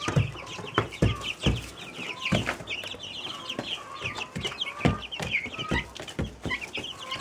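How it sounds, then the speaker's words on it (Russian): Young Breese Bar and Lohmann Brown chicks cluck and peep while pecking about in hay, with a constant chatter of chirps close by and occasional sharp rustles and taps from scratching. "Вот они, мои цыплята."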